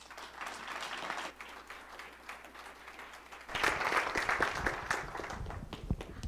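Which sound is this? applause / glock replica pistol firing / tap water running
applause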